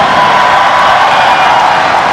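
A loud, steady crowd roar of cheering fills the stands as the Malaysian men's rugby sevens team, led by captain Zulkifli Azmi, runs onto the field at the 2017 SEA Games.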